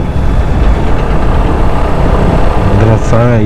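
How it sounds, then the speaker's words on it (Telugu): Big heavy trucks near a granite quarry road run their engines in a steady, loud low rumble, with a voice briefly speaking near the end. "ఓరేడమ్మ గొడవ, ఎంత పెద్ద ట్రక్కులు రా స్వామి."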